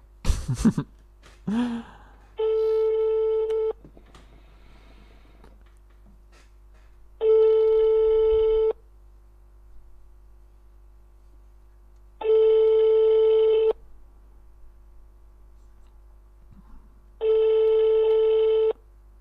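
Telephone ringback tone on an outgoing prank call: four evenly spaced long tone bursts about five seconds apart, loud and clear over a quiet line, with a brief noise at the start and no talk.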